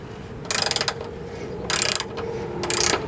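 A ratchet wrench turns a 13mm socket on a truck, giving three short bursts of rapid close clicking separated by brief pauses, with no talking.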